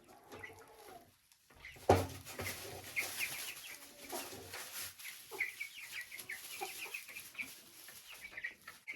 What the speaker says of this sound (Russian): Бройлер. Видите, как генетически выведена птица.